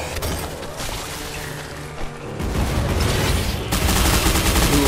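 Rapid machine gun fire from a video game, a dense loud rattle running throughout, growing heavier and fuller in the second half with no speech over it.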